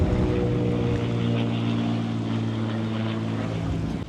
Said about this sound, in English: there's a plane coming straight over the top of us